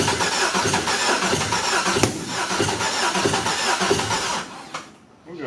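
An LS-swapped Datsun 280Z with fuel pressure trouble and timing that seems off cranks and fires roughly, running loud and uneven with sharp pops, then cuts out near the end.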